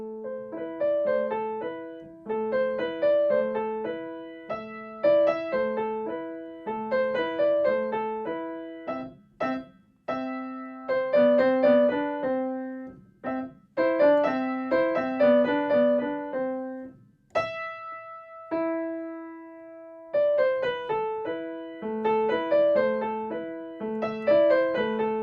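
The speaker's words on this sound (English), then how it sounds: "there's also another really nice piece by Bartók called Folk Dance" Solo piano plays Bartók's Folk Dance, an easy classical piece: lively, rhythmic phrases of repeated chords and short melodic figures, with a brief held chord near the end before the dance resumes. No voices.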